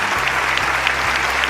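Audience applause fills an award ceremony hall as the first-place Philippine team receives its certificate at the YSP World Assembly 2021, a dense, steady clapping from a large crowd that continues without a break.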